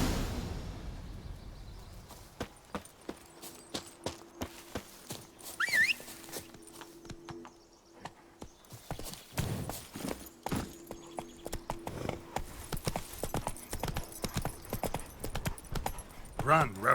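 The horse in The Witcher 3 video game trots then gallops, its hooves clip-clopping in a steady, accelerating rhythm, close and clear, with a brief whinny and faint game sounds around it.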